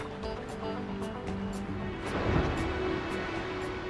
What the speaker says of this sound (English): Heavy surf stirs up food.